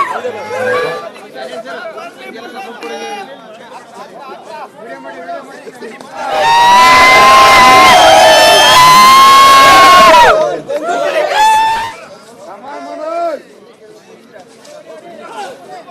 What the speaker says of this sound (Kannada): ಸದ್ದು ಗದ್ದಲ, ಹರ್ಷೋದ್ಗಾರ